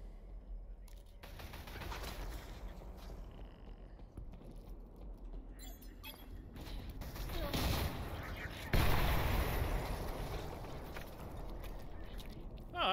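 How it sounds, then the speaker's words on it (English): Gunfire rattles through a wall in the shooter game Selaco, with scattered sharp shots and bursts over a steady wash of in-game noise, louder and denser toward the middle and end. "Fucker's shooting through a wall."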